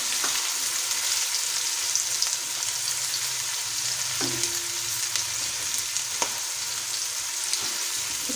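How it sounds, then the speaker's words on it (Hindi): Ginger garlic paste frying in hot oil for an egg and peas curry, a steady close sizzle with occasional stirring clicks and scrapes, no voices. "अब इसमें हम 1 टेबलस्पून जो है लहसुन अदरक का पेस्ट शामिल करेंगे और इसको भी फ्राई कर लें।"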